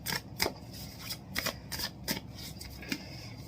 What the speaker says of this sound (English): I'm going to go for one more shuffle